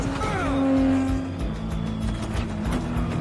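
Race cars from Ford vs Ferrari roar past with rising engine tones and a tire squeal, loud and close, against film soundtrack noise.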